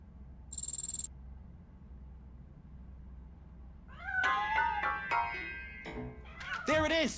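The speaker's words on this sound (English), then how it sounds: "That cat must be hiding inside." A cat in the video game Robocop Rogue City meows several times in short, clear, wavering calls near the end, preceded by a brief electronic tone and quiet room ambience.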